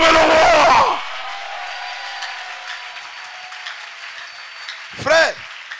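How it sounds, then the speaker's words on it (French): A crowd at a gathering cheers and applauds the king, a loud burst of clapping and shouting that cuts off abruptly, followed by quiet room tone and a short second swell near the end. "est-ce qu'on peut acclamer le roi?"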